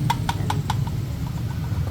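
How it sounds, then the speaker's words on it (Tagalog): Sniper 155 motorcycle engine with a worn engine bearing idling loudly, a steady low rumble with a few sharp rhythmic knocks early on, close up with no talking. "Sobrang lakas na ng tunog ng makina niya."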